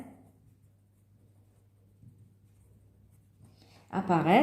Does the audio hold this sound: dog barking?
no